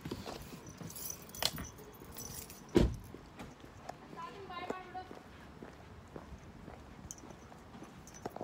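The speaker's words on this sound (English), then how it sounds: "I want my keys." Keys jangle briefly amid outdoor footsteps and passing traffic, with a sharp knock partway through and a person talking nearby.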